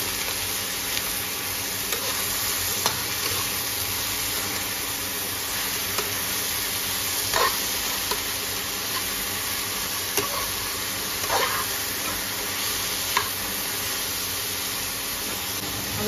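Ridge gourd sabzi with turmeric being stirred in a pan, a soft steady sizzle with a few scraping strokes of the spoon at intervals, close and unaccompanied by speech.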